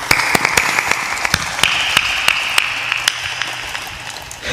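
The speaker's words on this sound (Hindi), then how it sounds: "ताली बजा दो।" An audience at a spiritual discourse gives scattered, uneven claps: a string of sharp individual hand slaps over a steady tonal hum, thinning out toward the end.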